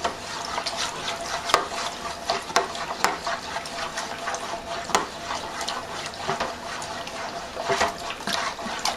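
Warm water swished and stirred in a bucket, with steady sloshing and scattered clinks of a utensil against the sides, close and moderately loud.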